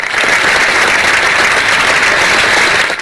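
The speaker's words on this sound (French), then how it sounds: "il faut l'applaudir" Studio audience applause for a contestant at a televised school quiz event, a dense, steady wash of clapping that stays loud and even throughout with no voices over it.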